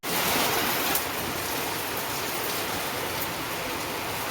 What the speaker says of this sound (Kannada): ಭಾಳ ದಿನದಲ್ಲೇ ಮಳೆ ಬರತೈತಿ ಮತ್ತೆ